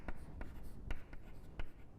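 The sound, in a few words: writing by hand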